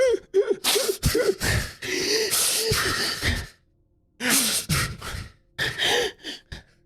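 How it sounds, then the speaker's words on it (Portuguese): Comedic crying sound effect in a chatty podcast setting, a run of sobbing gasps and sighing breaths in bursts with a brief pause midway, loud and close. "Aquele choro sonoplastia do ratinho."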